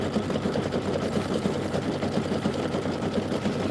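A sewing machine stitches out a turkey design in a fast, even, rhythmic patter, steady and moderately close for the whole stretch, with no talking.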